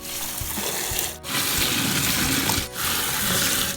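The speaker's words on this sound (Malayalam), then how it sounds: "ഇനി ഇത് 5-6 പ്രാവശ്യം പച്ചവെള്ളത്തിൽ നന്നായി കഴുകി ഊറ്റിയെടുക്കണം" Water splashes and sloshes steadily as ash gourd pieces are rinsed and swirled by hand, with two brief pauses in the flow.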